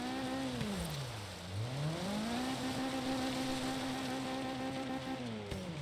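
A Mazda Miata engine revs on an off-road rally course with jumps and puddles in Forza Horizon 3, a steady buzzing drone that dips sharply, then climbs back and holds high, heard alone and close.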